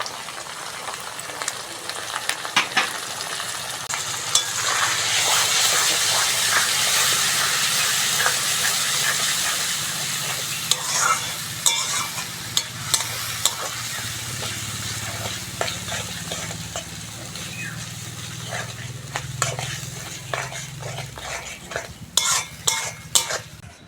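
Spiced chicken masala with yogurt, turmeric and potol is stir-fried in a pan. A loud hiss of steam swells early on, then a steadier sizzle runs under frequent clattering scrapes of a metal spoon, close by with no speech.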